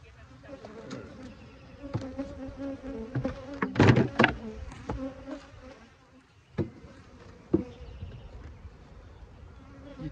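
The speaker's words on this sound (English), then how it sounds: "I'm gonna look at Steve's hive real quick" Honeybees hum and buzz steadily around an open hive during an outdoor inspection, with a loud close pass midway and occasional knocks of hive equipment.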